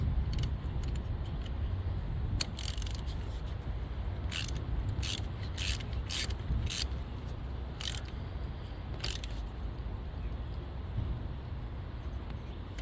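Ratchet wrench tightening spark plugs in the engine of a 2015 Toyota RAV4, a handful of short sharp clicking bursts spaced irregularly over steady background hum, fairly close.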